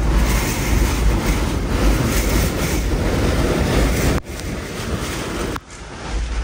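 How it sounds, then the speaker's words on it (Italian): Strong tropical cyclone wind roars steadily and loudly, buffeting the microphone with dense broadband rumble and brief dips in intensity, close and unbroken by any talking. "il vento è così forte che muove un Land Cruiser gigantesco"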